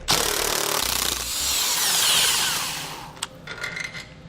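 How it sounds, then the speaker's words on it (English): A tool works a 13mm bolt loose above the core support of a 2014 Jeep Grand Cherokee, with a close, steady whirring and rubbing for about three seconds, then a few sharp clicks and short rattles. "we need to remove this 13mm bolt right here"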